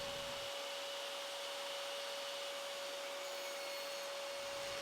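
A power saw whines steadily while cutting quarter-inch-thick walnut into 6-inch pieces, a continuous loud, even drone with a constant tone, alone with no voices.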